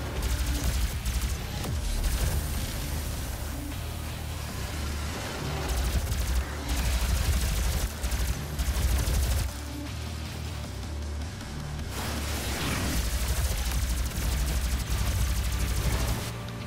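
Weapon fire in the video game DOOM, a dense, continuous barrage of loud shots and booms with rapid bursts running throughout.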